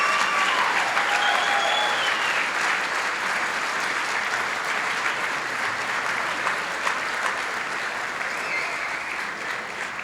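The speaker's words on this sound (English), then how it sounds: "How about a round of applause" Audience at an annual achievement night gives honorees a steady, sustained round of applause, dense even clapping from a large room lasting the whole stretch without a break.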